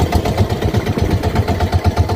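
A boat engine runs steadily with a low, pulsing throb as the boat circles on rough waves off the West Philippines, close and fairly loud with no talk over it.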